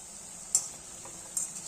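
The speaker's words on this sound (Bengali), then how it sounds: "তেলের মধ্যে দেখুন বড়াগুলো বেশ ফুলে বড় বড় হয়ে গেছে" Lentil fritters frying in hot oil give a faint, steady hiss, broken by two brief louder crackles or spatters, quiet and close with no talking.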